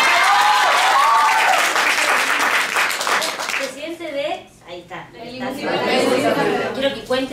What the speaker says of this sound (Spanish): Un aplauso para el presidente.